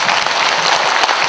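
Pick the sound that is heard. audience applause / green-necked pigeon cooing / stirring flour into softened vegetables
audience applause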